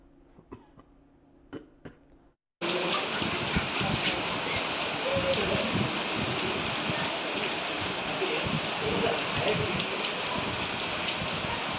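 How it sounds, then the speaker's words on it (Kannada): Heavy monsoon rain in the Malnad region of Shivamogga district, Karnataka, a dense steady roar of downpour that starts abruptly after a few faint coughs and holds loud and unbroken to the end. "ಮಲೆನಾಡು ಜಿಲ್ಲೆಗಳಲ್ಲಿ ವ್ಯಾಪಕವಾದಂಥ ಮಳೆ ಬರ್ತಾ ಇದೆ"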